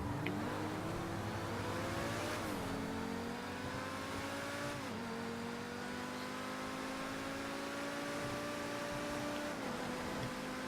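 A Progen T20 supercar in GTA V pulls away from a standstill, engine pitch climbing steeply through several gears with brief dips at each shift, loud and continuous.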